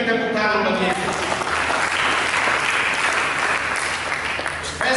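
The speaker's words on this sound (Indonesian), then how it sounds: "Mari berikan tepuk tangan bagi" A church congregation claps and applauds loudly at a Sunday service, a dense, sustained burst of many hands close by throughout, with a voice speaking over the start.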